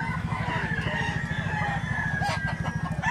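A five-year-old, medium-sized rooster crows over a steady background hum, with clucking fowl nearby.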